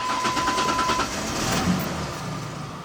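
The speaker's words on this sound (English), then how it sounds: "I'm going to go ahead and start the truck up" A Ford Ranger truck with a 4.0 engine cranks briefly and catches, then settles into a steady mid-pitched idle, close and fairly loud with no talking.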